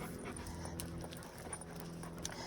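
A big black dog pants quickly and rhythmically on a morning walk in Texas. The breathing is faint beneath steady outdoor noise and footsteps.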